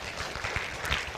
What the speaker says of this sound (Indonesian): Boleh beri tepuk tangan untuk Tuhan